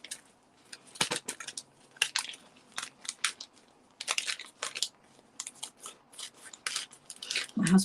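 Scissors snip through designer series paper in a craft setting, a quick irregular run of sharp, crisp cuts and crackles close to the listener, with short pauses between bursts.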